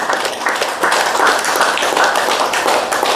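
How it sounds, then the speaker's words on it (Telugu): A crowd applauds in a continuous, dense wash of clapping hands that stays loud and even from start to finish. "ఇంకా గట్టిగా బిగ్ క్లాప్స్."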